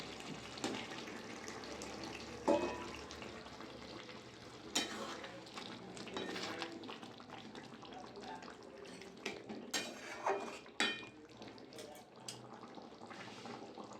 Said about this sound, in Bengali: অল্প গরম জল দিয়ে দেবো।